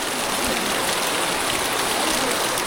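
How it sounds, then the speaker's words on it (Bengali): Rain falling steadily during a stay at a Durga idol workshop in Kamalpur, a loud, dense, even hiss of drops that fills the whole short stretch without pause and without voices. "আর বৃষ্টি হচ্ছে"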